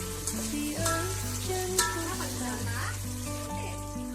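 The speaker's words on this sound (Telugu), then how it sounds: "మంచిగా అయితే టమాటా ఫ్రై అయిపోయింది" Tomatoes frying in a pan for veg biryani, a steady sizzle with stirring scrapes, heard beneath background music and a speaking voice.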